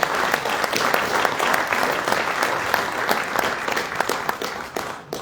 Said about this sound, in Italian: a presenza del nostro caro Daniele Cossello, a cui facciamo un caloroso applauso e abbraccio ideale